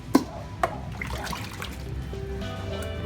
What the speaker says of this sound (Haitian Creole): Je vais tirer notre eau chaude pour mettre dans ça.